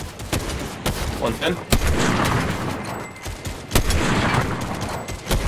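Rapid bursts of gunfire in the video game Fortnite, loud and dense with sharp repeated shots and booming hits across the whole stretch, while players talk over it.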